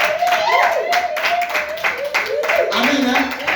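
A church congregation clapping and cheering together at a sermon: dense, continuous rhythmic applause close by, mixed with voices and shouts throughout.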